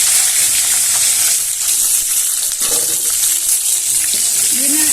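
Chicken fries in a pan, giving a loud, steady sizzle and hiss with faint stirring clatter throughout, close up and continuous.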